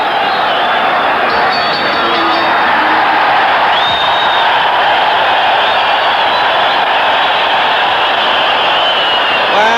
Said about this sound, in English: it's the first time that the crowd have really had something to cheer about